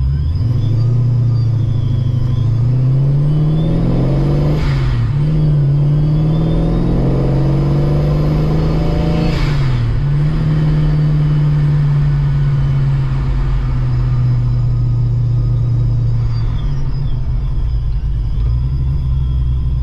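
A blown LS-powered Chevrolet Chevelle fitted with new Flowmaster mufflers cruises on the highway, its exhaust holding a steady, loud, deep drone with a couple of brief swells in engine pitch, and no talking.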